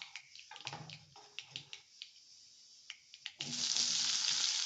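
Mustard seeds crackle and pop in hot oil in sharp scattered bursts, then onions join and a loud, steady sizzle takes over, close and with no talking.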